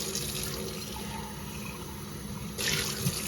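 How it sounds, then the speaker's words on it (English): Hot water sprays into an old salvaged beehive with a steady, close hissing rush that swells louder near the end, with no talk. "I'm going to blast it with just pure hot water in there."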